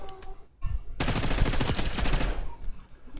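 Video game gunfire erupts as a loud, sustained automatic burst of rapid shots lasting over a second, then tails off, with quieter game sounds before and after.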